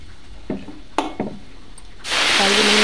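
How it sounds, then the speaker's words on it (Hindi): A home-dried red chili drops into hot oil, which bursts into a loud, steady sizzle after a few light taps of a utensil. The frying hiss holds to the end. "तो इसमें मैंने घर का सुखाया हुआ एक लाल मिर्च है, तो मैं एक ही डालूँगी इसमें।"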